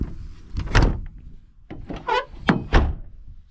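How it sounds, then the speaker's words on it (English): A car door on a Nissan 300ZX twin turbo fitted with aftermarket side skirts is shut, giving a few close, heavy thunks and scraping knocks where it catches on the skirt. "The door is catching here"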